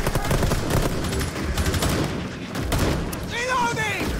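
Loud, dense automatic gunfire from the video game Rainbow Six Extraction, with rapid overlapping shots running nearly nonstop, a brief lull midway, then a wavering tonal cry rising over the shooting near the end.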